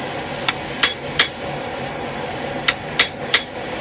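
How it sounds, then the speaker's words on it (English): A handled hot cut chisel is struck with a hammer to split a forge-welded seam on a Viking axe held in a vise, giving six sharp metallic blows in two groups of three, close and loud, with no talking. "take a handled hot cut chisel and split open the seam of the weld on the end over here"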